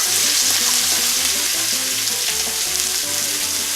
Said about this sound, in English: Now that our bacon is cooked about halfway, we're going to go ahead and add our produce. And we're going to saute these together.